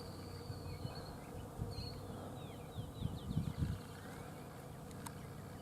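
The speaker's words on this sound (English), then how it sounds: "You can kind of see them buzzing around." Bees buzz faintly around a spring garden, soft thin whines drifting in and out over a low outdoor background hum, with a few brief louder passes near the middle.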